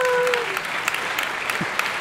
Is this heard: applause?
yes